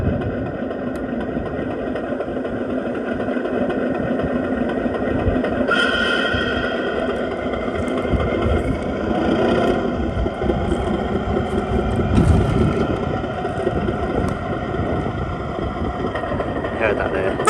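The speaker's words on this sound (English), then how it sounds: "If I give it just a little bit of power, you'll hear the drive sound." Drive sound of a 5 inch gauge Class 37 model locomotive, a steady electronic engine hum running beneath continuous talk, with a slight swell as a little power is applied.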